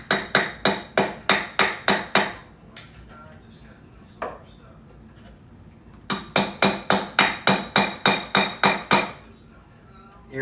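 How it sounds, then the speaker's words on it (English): Hammer blows drive a part into place during a rear tire and motor replacement on a TIF GALOP t88, two loud close bursts of about nine rapid, evenly spaced strikes separated by a pause with a single knock. "Here, you want to hammer this in there?"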